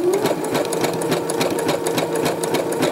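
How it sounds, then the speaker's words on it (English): A sewing machine runs a zigzag stitch on fabric, a close, steady, rapid mechanical chatter with an even rhythm throughout, heard alone. "when you do your zigzag stitch, and sometimes you tend to move the fabric"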